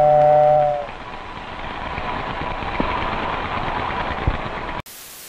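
A Lionel model train with Magne-Traction, a vintage 1950s magnetized-wheel toy locomotive, opens with a sounded horn chord, then runs steadily along the track with a continuous rolling rumble and light clicks before cutting off abruptly.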